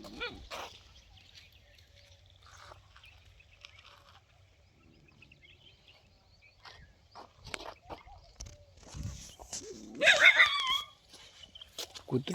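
A village dog gives a brief whine or yelp during an overcast rural morning walk, rising above scattered footsteps, and people talk intermittently around it.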